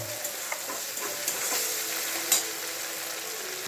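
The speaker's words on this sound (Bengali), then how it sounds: "তেল গরম হওয়ার পরে এতে কালো জিরে দিলাম আর কাঁচা লঙ্কা দিলাম। ভালো করে কষিয়ে কষিয়ে ফ্রাই করে নেব।" Black cumin seeds and green chillies sizzle steadily in hot oil in a pan, a continuous close frying hiss with a few soft stirring scrapes and clicks.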